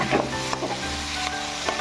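Mustard seeds and chilies sizzle steadily in a hot pan while a spoon stirs in short scraping strokes, close and continuous with no talk.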